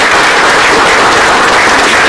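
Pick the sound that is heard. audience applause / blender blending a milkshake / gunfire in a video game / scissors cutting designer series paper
audience applause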